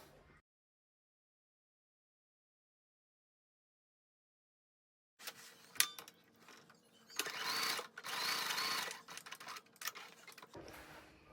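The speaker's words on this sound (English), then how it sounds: "You can do a really tiny zigzag stitch, or if your machine has it, like the bar tack stitch, you can do that as well." A home sewing machine stitches a tiny zigzag bar tack on the back pocket of a pair of pants. The whir starts after a long silence and comes in short, close bursts with brief pauses between them.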